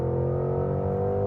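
Porsche Cayenne GTS engine at full throttle in sport mode, a steady, loud sustained drone with a slowly rising engine note heard from inside the cabin, no voices.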